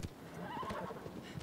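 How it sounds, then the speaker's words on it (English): A horse whinnies loudly, with hoofbeats clip-clopping underneath, in the video game Shadow of the Colossus, a short burst of neighing close up. "I'll jump on my horse. I'll start riding."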